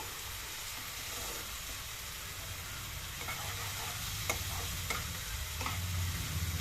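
A spice paste of onion, ginger and garlic fries in a pan with a soft, steady sizzle and occasional light clicks of stirring. The sound is faint and fairly close, with no talking.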